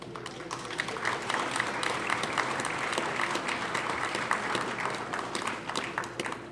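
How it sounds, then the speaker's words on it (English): Crowd at a church ice cream social in Cole Camp claps after a song, a dense, sustained wash of applause from many hands, fairly loud and steady with faint voices beneath. "Another round of applause"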